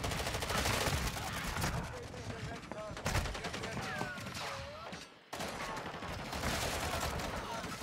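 Rapid automatic gunfire from a weapon in a shooter video game rattles in fast bursts, loud and near, with brief pauses and other game effects mixed in.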